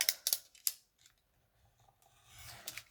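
Scissors snip quickly through material for a pouch, three or four sharp close cuts at the start followed by softer rustling and handling, with no talking.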